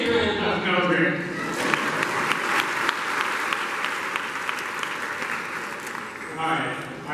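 A graduation crowd at a STEM academy claps steadily through most of the stretch, with a voice speaking briefly at the start and again as the applause dies down.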